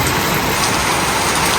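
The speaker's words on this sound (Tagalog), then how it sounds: "Ayan na ulan, sumilong na kayo." Heavy rain pours steadily and loudly during a stormy afternoon with strong wind, a dense, unbroken hiss of drops with no pauses and no talking.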